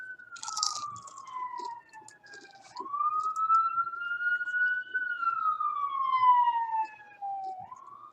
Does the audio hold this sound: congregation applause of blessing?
no